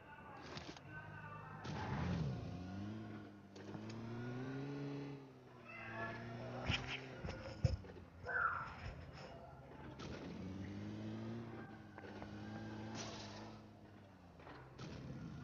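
Droning, wavering engine of a vehicle driven in PUBG Mobile Lite, rising and falling in pitch as it revs, with occasional thuds and gunfire in the game.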